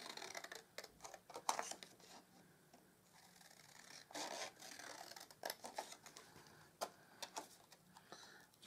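Paper being cut out with scissors for a handmade baby carriage card, giving quiet irregular snips and light scraping ticks close by, with no talking.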